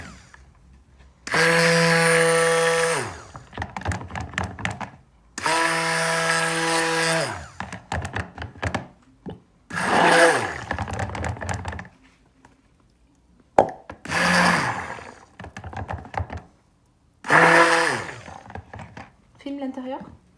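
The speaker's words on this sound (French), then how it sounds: "là je vais mettre ma lessive de soude dans mes huiles. Et je vais commencer à mixer" A stick blender mixing lye solution into oils for a white clay soap, running in five loud bursts of a couple of seconds each with quieter gaps and scraping between them.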